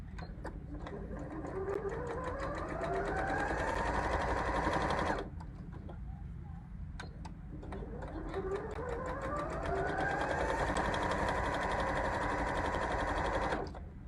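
A sewing machine stitches a quarter-inch quilt seam in a steady rapid whir that rises in speed, pauses briefly, then runs again at a close, even level.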